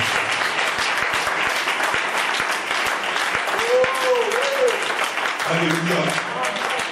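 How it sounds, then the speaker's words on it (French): Sustained applause from a congregation in a French-speaking church service, dense and steady throughout, with a voice calling out over the clapping. "Acclamez le Seigneur Jésus-Christ."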